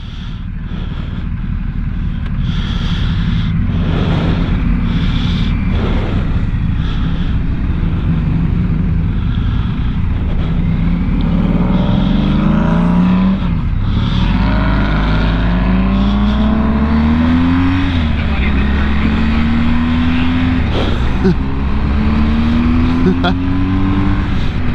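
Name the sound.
Triumph Rocket 3 motorcycle accelerating past BMW GSA 1250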